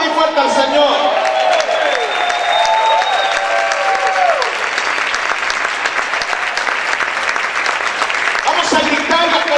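A church congregation clapping hard and shouting praise during a sermon, loud sustained applause with voices crying out over it, dense and close throughout, with a preacher's voice heard near the start and end.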